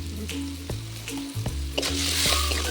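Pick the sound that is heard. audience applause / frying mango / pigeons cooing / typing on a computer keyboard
frying mango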